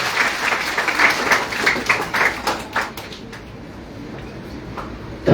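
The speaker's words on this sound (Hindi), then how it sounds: "एक बार फिर से बच्चों के लिए जोरदार तालियां।" Audience clapping for children at a school quiz during a Himachal festival in Shimla, a loud burst of applause that fades out after about three seconds, leaving quiet room tone.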